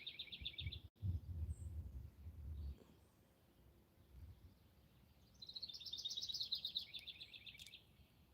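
Birdsong in woodland on a quiet morning: two bursts of high, trilling chirps, one at the start and a longer one later, with soft low rustling and wind in between and no talking.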